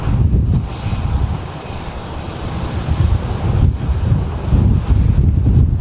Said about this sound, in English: Graceful approach there from the EasyJet.